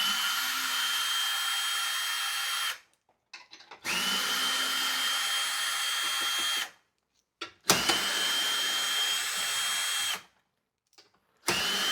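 A power tool whirring in several sustained bursts with short pauses between them, loud and close, as it removes 10mm bolts from car trim.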